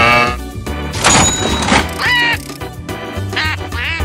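A cartoon duck quacks in a children's animated series, several loud nasal quacks over bright background music.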